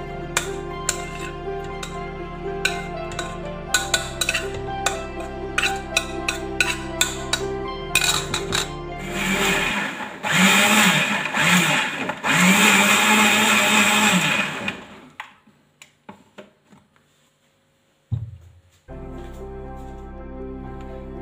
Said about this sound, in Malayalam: ഉരുകി വെച്ചിരിക്കുന്ന തേങ്ങാപ്പാല് മിക്സിയിലിട്ട് പാൽ